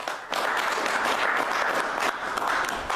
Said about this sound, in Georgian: ტაში